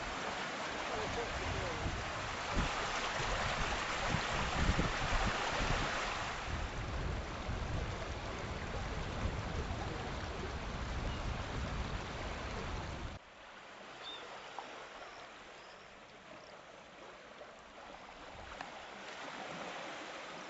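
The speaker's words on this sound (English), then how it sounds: "So this is where King's Beck joins the sea." King's Beck stream pouring out into the sea at Robin Hood's Bay, North Yorkshire, as a steady close rushing of water that drops to a softer wash of waves partway through.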